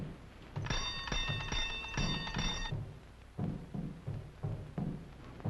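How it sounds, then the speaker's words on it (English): A bell at a building's door rings twice in bright sustained bursts, like an ice cream man's bell, followed by soft thumps and footsteps in a quiet old film scene. "You ring the bell."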